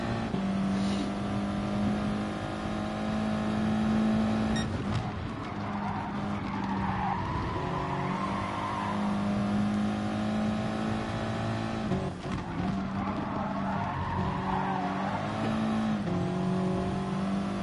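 Race cars in a racing video game, a steady close engine drone with pitch rising and falling through gear changes and corners, occasional tire squeal, no talking.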